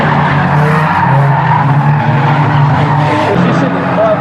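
Banger race cars on the Aldershot Raceway tarmac, tyres skidding and squealing under a loud, constant roar of engines, with a commentator talking over the racket.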